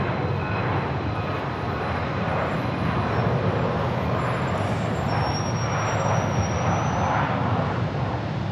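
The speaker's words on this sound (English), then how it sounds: "There goes that Gulfstream." A Gulfstream business jet passing near Phoenix Sky Harbor Airport, a loud continuous broadband roar that holds steady for several seconds without voices.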